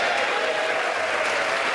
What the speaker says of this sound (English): with a speech that garnered applause on both sides of the aisle